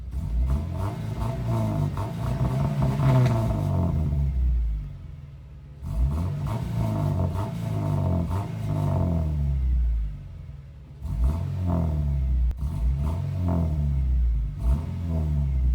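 Car engine revving repeatedly, rattling a cheap homemade shaker hood on a budget beater car; loud rumbling throttle blips in three bursts with brief dips between, no talk.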